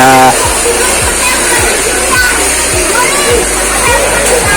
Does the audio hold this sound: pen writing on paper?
no